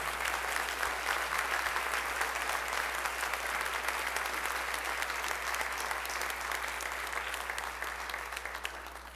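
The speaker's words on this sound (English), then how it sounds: "Let's give a big round of applause to their work at contest this year." Sustained applause from a school concert audience at a spring band concert, steady and dense throughout, fading slightly at the end, with no talk over it.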